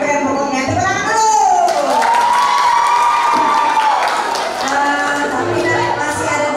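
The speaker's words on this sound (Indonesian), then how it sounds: "Tepuk tangan dulu." Audience at a high school assessment event clapping and cheering together, a loud sustained crowd roar with shouts and whoops rising over the applause throughout.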